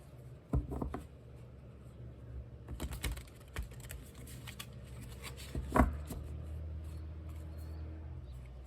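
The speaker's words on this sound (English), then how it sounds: "One more shuffle." Tarot cards being shuffled by hand in a quiet room, a series of soft papery riffles and taps with a few sharper snaps near the start and around the middle, close and clear with no talking.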